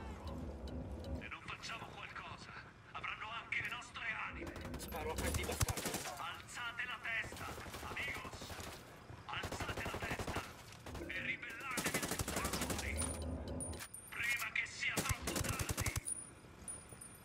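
Rapid automatic gunfire and bursts of shots from a firefight in the open-world shooter Ghost Recon Wildlands, loud and nearly continuous with voices talking over the battle.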